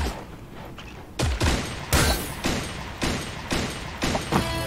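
Gunfire rattles through a Fortnite-style shooter game: a steady run of sharp shots, about one or two each second, over a constant game background with no talking.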